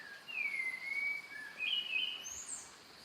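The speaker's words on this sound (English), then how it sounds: "Spot-wing thrush endemic to Sri Lanka." A spot-winged thrush, endemic to Sri Lanka, sings clear, whistled phrases of rising and falling notes at dawn in Rassagala rainforest, fairly close over a soft hiss of outdoor ambience, with no talking.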